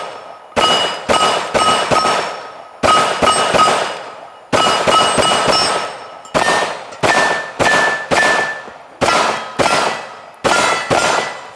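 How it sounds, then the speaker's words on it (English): Rapid strings of close, loud pistol shots from a Sig P320 fitted in a CAA micro conversion kit, fired in quick bursts of three to five sharp cracks with short pauses between strings, at an outdoor range, with no talking. "We're going to be shooting the CAA micro conversion kit."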